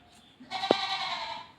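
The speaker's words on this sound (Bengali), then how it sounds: "ছাগল ডাকছে কোথায় জানি" A single goat bleat, fairly close and wavering, with a brief low knock in the middle and faint background hiss.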